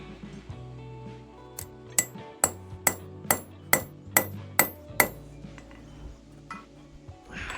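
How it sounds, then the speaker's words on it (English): Ten sharp metallic hammer strikes punching a hole, in a steady rhythm, each ringing briefly, close by with no talking. "now I'm actually gonna punch the hole"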